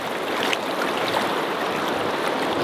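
A fast river current runs strongly past a grayling angler's spot, producing a steady, loud broadband rush of water without pause and no voices over it.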